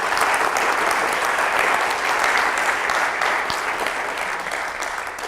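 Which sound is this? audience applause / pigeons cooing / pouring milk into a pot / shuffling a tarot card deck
audience applause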